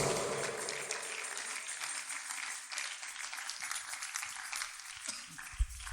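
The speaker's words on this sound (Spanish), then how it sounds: "Puede darle un aplauso al Señor con todo su corazón." A church congregation applauds during a sermon, a faint, distant wash of clapping that carries on evenly with a single thump near the end.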